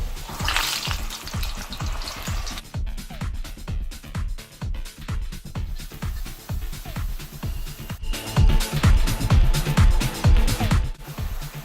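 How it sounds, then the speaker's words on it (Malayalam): Urad dal vada batter fries in hot oil with a dense, crackling sizzle. The spatter pulses rhythmically and grows louder toward the end, with no voices. "നമുക്ക് ഇങ്ങനെ ഒരു ഹോളിട്ടിട്ട് ഈ എണ്ണയിലേക്ക് ഇട്ട് കൊടുക്കാം"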